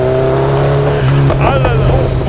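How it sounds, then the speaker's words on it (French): A 2018 Kawasaki Z900 motorcycle with a full exhaust roars up close, a loud steady engine drone that rises into a revving surge partway through, with a voice heard over it. "je suis actuellement au guidon de la Z900 de 2018"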